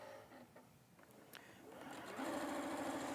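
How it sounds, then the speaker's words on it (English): A sewing machine stitches a quarter-inch seam on pressed quilt fabric pieces. Near and steady, its motor starts softly, then settles into a continuous rapid whirring hum. "So we're just going to sew a 1/4 inch seam."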